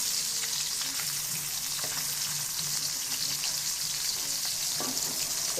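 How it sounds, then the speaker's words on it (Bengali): Hilsa fish fry in mustard oil with a faint, even sizzle and crackle throughout, steady and fairly quiet with occasional soft stirring sounds. "এই মাছগুলো ভেজে সব তুলে নিয়ে এসছি"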